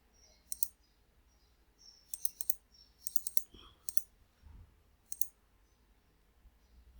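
Computer mouse clicking during software work, a series of sharp, quiet, close clicks in small clusters separated by brief pauses, with faint background noise and no speech.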